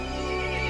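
A brief, loud horse whinny in the video game Resident Evil Village, with a steady, tonal quality, heard up close and alone.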